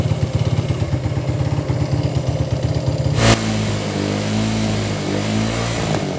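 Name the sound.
125cc motorbike engine running and starting to stall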